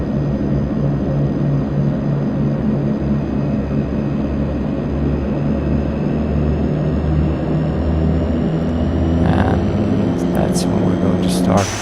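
A simulated aircraft engine in a flight simulator game hums low and steady as the throttle comes up for taxi. The drone stays constant and close, with a brief clatter near the end.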